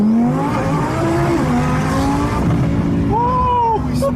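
A twin-turbo 1200 hp Audi R8 launching hard, spinning all four tires with a loud, strained engine roar and rising squeal, close up, with excited voices talking over it.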